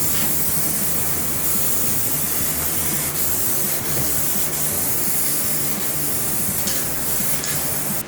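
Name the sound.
spray paint can coating a car bumper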